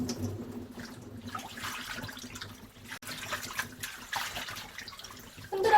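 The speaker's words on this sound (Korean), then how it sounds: "30분 정도 지난 꼬들빼기를 씻어 볼게요." Godeulbaegi greens being washed after a half-hour soak in vinegar water, with steady running and splashing water throughout, close and fairly even, no talking.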